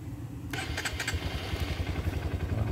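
A Honda CRF 150 motorcycle is started: a short burst of clattering cranking, then the engine settles into a steady, close, throbbing idle.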